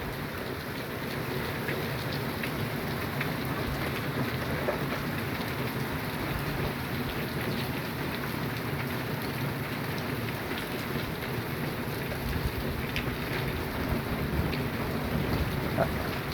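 Heavy rain pours steadily as a thunderstorm with hail moves off, a dense continuous hiss of drops on surfaces, with faint distant rumbles and no voices.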